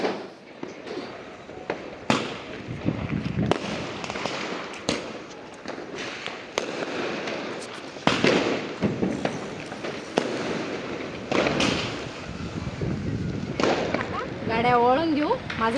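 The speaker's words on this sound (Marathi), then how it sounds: "फटाके जोरात फुटत आहे" Repeated sharp firecracker bangs during Diwali Lakshmi Puja burst loudly and irregularly throughout, some close and some farther off, with voices in the background.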